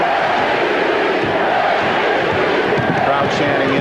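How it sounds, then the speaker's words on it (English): A basketball arena crowd chants MVP for Hakeem Olajuwon, a loud continuous roar of many voices filling the whole stretch. "Crowd chanting MVP"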